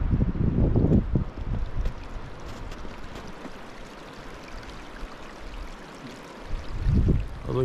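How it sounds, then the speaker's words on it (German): Gusty wind buffets the microphone with low rumbling roars, easing in the middle before surging again, over a steady wash of outdoor noise, at night in a storm with snow in the woods. "Es wird merklich windiger."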